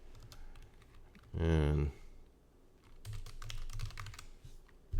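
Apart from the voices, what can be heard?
typing on a computer keyboard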